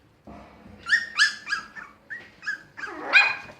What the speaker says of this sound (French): ah ben voilà, des petits aboiements